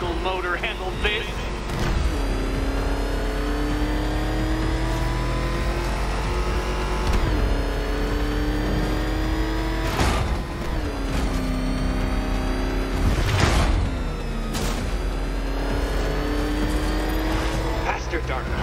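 Batmobile in Batman: Arkham Knight racing hard, its engine whining and climbing in pitch through repeated shifts, with sharp bursts and screeches between, loud and continuous under a talking voice.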